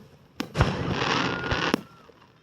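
Fourth of July fireworks crackle and boom at a distance, with sharp bangs at the start and end framing a sustained sparkling hiss of glitter effects.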